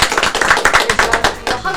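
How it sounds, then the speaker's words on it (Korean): A small studio group on a Korean debate show claps in brief, distinct, uneven bursts, close and loud, with individual hand strikes clearly separated. "우리 그린지에게도 박수 한번 같이 주시죠"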